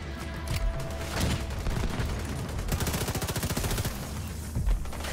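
Rapid weapon fire in The Division 2, a dense burst of repeated sharp cracks with a quick rhythmic stretch in the middle, loud and continuous throughout without speech.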